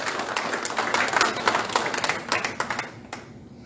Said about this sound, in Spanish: Denle un aplauso al Señor si tiene ganas de aplaudir al Señor.